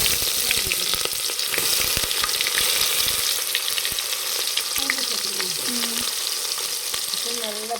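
Mustard seeds sizzle and crackle in hot oil in a pot for a village-style murrel fish curry, a loud, dense frying hiss with sharp pops throughout, while a bird-like whistling tone rises in the background near the end.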